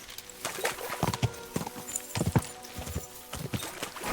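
Horse hooves clop in Kingdom Come: Deliverance II, an irregular series of sharp, close hoofbeats as the mount shifts and turns, over a low steady background hum.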